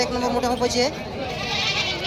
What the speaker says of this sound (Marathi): एक बकरा आहे मित्रांनो, उस्मानाबादी आहे